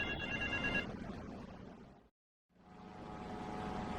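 A payphone in Vice Point rings in GTA Vice City, its electronic trill sounding in bursts that cut to brief silence before returning, set against a low droning background.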